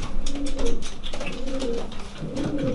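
A racing pigeon coos in repeated low, rolling phrases, close and clear, with a steady rhythm and soft background noise.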